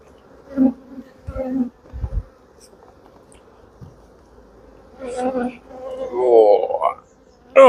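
Honey bees buzz around an opened hive as frames are checked, a close, droning hum rising and falling, loudest near the end, under a few spoken words.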